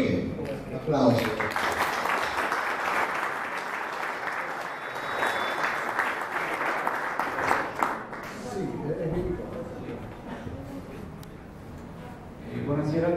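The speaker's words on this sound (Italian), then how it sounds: "Ok, applauso." An audience at an Italian national poetry competition and award ceremony in Vieste applauds with sustained, dense clapping for about eight seconds, then it fades as voices and speech take over toward the end.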